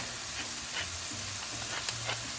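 Onion and garlic sauté in very little oil in a skillet, giving a steady close sizzle with light stirring scrapes throughout.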